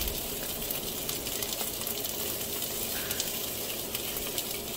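Sausage links sizzle and fry steadily in hot oil while being broken apart in the pan, a dense continuous crackle with no talk.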